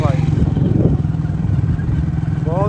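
A 125 cc motorcycle engine runs close by with a steady low throbbing idle, while people talk over it throughout.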